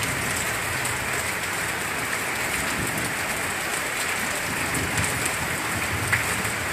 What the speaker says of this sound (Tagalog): Lord, itigil na po yung ulan.